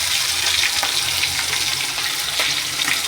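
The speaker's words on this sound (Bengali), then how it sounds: "চিংড়ি মাছটা একটু ভেজে নেব" Prawns fry in hot oil with a dense, loud, continuous sizzle, nearby and unbroken, with a few crackling bursts and no voices.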